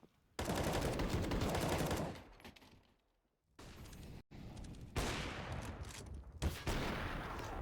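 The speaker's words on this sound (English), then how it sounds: "Couple of warm-up frags for Dan King with the AWP." Gunfire from a Counter-Strike: Global Offensive match on the Train map, with rapid game shots and battle noise filling most of the clip, broken by a brief quiet gap.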